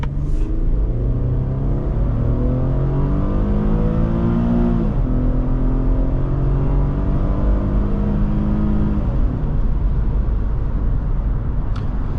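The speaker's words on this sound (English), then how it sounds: "We get up to speed pretty easily, and the ride is fantastic." A 2011 Infiniti FX35 accelerating from inside the cabin, engine pitch climbing through gears with a shift near the middle, a steady loud rumble throughout and no talk.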